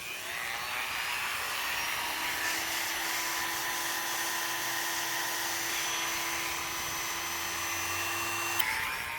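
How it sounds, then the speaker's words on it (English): Petrified wood being carved with a grinder, a loud, steady high-pitched whine held close for several seconds as the tool bites, with no talking. "So we're gonna go get grinding. It's gonna get loud"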